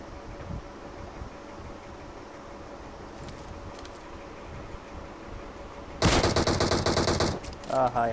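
Automatic gunfire in PUBG Mobile breaks out as a loud, rapid burst after a long stretch of low ambient game noise, followed by another short volley.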